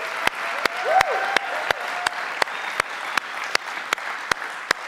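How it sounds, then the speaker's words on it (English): A church congregation gives a round of applause for its pastor, a dense wash of clapping with sharp, evenly spaced loud claps cutting through at a steady beat. "I'm just wondering if we could just give a round of applause to your pastor."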